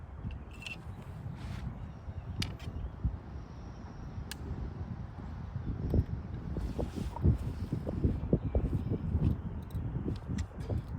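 Gusty wind buffets an outdoor archery range, roaring low and rumbling against the microphone with uneven swells that grow stronger in the second half; soft scattered clicks and knocks sit underneath, with no talk.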